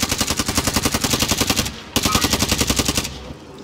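Rapid automatic gunfire in a video game, loud sustained bursts of evenly spaced shots, a brief pause, then another long burst.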